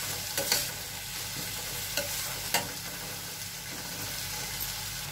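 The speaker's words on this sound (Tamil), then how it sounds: "தக்காளி நல்லா மசிஞ்சு வரணும். அது வரைக்கும் நல்லா வதக்கி விட்டுக்கலாம்." Tomatoes with salt fry in a pan for a paruppu urundai kuzhambu, a continuous close sizzle broken by a few short scraping stirs.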